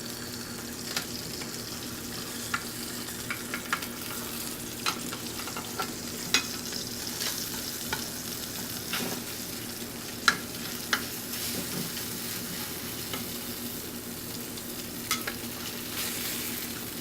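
Salmon fries in a pan with a continuous close sizzle, scattered pops and crackles, and a faint low hum underneath, with no voices.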